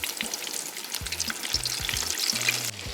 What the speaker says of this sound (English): The wings are gonna get fried for around 15 minutes, 10 to 15